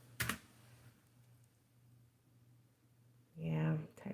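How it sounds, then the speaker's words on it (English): Keys clatter softly on a computer keyboard during a chat stream, a quiet, sparse run of taps with a voice speaking at the end. "I think I'm typing her name wrong."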